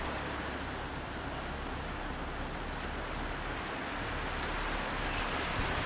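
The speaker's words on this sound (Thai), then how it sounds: "มาเบิ่งฝนตกกัน" Steady rain pours down continuously, a dense broadband hiss with a low rumble underneath, constant in level throughout with no voices.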